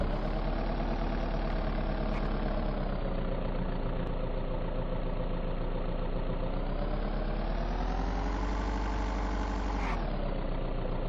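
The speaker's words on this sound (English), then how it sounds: "One thing I really wish they would do is update the engine noises." Vehicle engine idling in the video game Project Zomboid, a steady, loud, droning rumble that holds for the whole stretch with a slight rise in pitch near the end, heard alone without talk.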